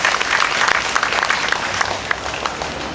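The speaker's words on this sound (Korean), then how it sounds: "우리 김두천 회장님께 다시 한번 뜨거운 박수 부탁드리겠습니다." An audience at a national memorial ceremony for COVID-19 vaccine victims applauds the association chairman, with steady, dense clapping that holds at an even level throughout.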